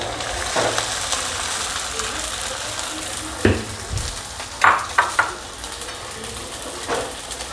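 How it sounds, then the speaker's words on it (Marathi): Sago pearls tumble into a hot pan of fried chillies and hiss in a steady, close sizzle, with a few sharp scrapes and clinks of a spoon against the pan along the way. "आता मी साबुदाणा टाकते।"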